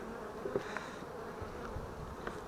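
Honey bees drone steadily at an open hive during colony work, a close, even buzz with a few louder passes of single bees.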